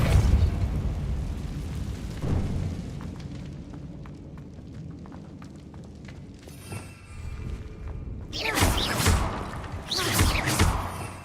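The Incendio fire spell in the Hogwarts Legacy video game bursts out in a couple of loud whooshing blasts near the end, after quieter rumbles and thuds from the game.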